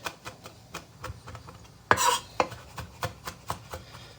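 A knife chops fresh rosemary needles on a cutting board with a rocking motion, giving a quick run of crisp, close taps. Several sharper, louder strikes fall at an uneven rhythm with brief scraping between them.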